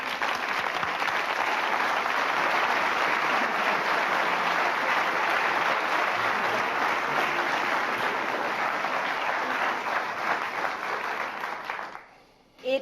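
Sustained, loud audience applause fills a hall as Richard Parsons is welcomed to the stage, a dense even wash of clapping that continues steadily before dying away abruptly near the end.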